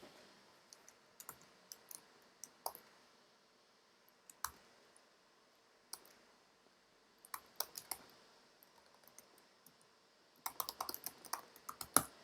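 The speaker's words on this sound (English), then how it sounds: "So I'm typing in my email here, as well as the password." Quiet keyboard typing, irregular clusters of soft clicks with pauses between bursts, close by and with no talking.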